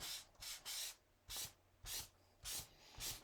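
Soft, repeated scratchy rubbing strokes of a cotton ball on black glitter card stock in an uneven rhythm, each a brief airy swish, close and quiet with pauses between.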